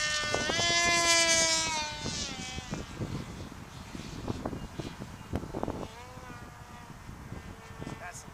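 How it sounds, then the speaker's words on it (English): Heavy outdoor wind buffets the microphone with low rumbling gusts at a flying field for a giant foam F22 model plane, while people talk over it and a high whining tone rises and falls. "That's the wind."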